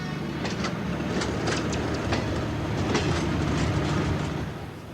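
Steady rumble of a train rolling through a busy railway station, with rhythmic clickety-clack of wheels over rail joints and occasional sharp metallic ticks, continuous and fairly close.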